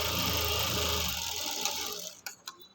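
A sewing machine top stitching runs at a steady, close mechanical whir that slows and stops, followed by a few sharp clicks near the end.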